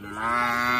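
A person imitates a buffalo with a single drawn-out, low, moo-like call that starts softly and holds steady, close and clear.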